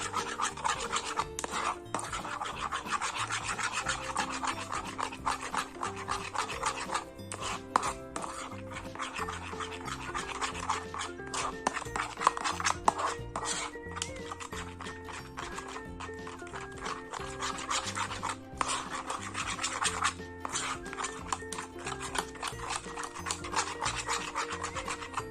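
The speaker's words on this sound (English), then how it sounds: "now we need to mix it thoroughly like this" Sugar being stirred into a homemade slime mixture made without borax or glue. Quiet, continuous rasping and rubbing strokes repeat in an uneven rhythm, with a few soft bumps.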